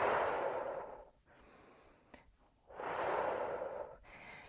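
Two long, forceful exhales during a pilates lift in a power pilates workout, close and breathy, with a quiet pause and a faint sound between them.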